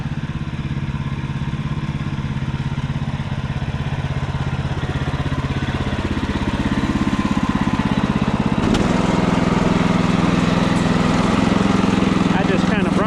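A sawmill's saw head runs through cedar while cutting corner siding strapping, its engine droning steadily with a rattling clatter that grows louder partway through and stays loud and close.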